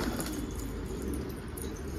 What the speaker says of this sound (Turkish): Kuşlar yine coşuyor.